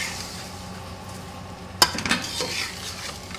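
Vermicelli (sawiyan) dry-roasting in a pan for sweet zarda, a soft continuous frying hiss with a sharp utensil clink partway through followed by a few scraping stirs.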